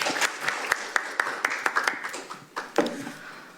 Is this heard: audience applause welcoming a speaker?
yes